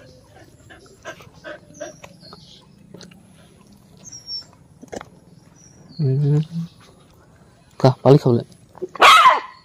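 Dogs whimper softly and then break into several loud, close barks near the end, with people talking throughout.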